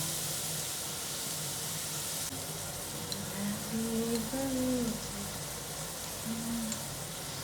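A steady, quiet sizzle of something frying in a pan runs throughout at close range, with a faint voice-like murmur partway through.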